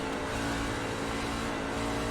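A race truck's engine in iRacing roars steadily at Gateway, a dense, continuous loud drone with no clear downshift steps in the brief moment.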